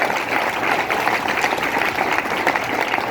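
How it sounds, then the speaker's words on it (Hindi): A large crowd at a leadership gathering in Kandivali gives loud, continuous applause, a thick unbroken wash of clapping lasting about three seconds. "सारे लोगों के लिए एक बार जोरदार ताली बनती है"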